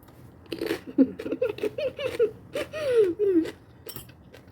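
Someone eats Thai boat noodles close by, with soft slurps, chews and wet mouth clicks in short bursts, mixed with murmured vocal sounds and quiet background.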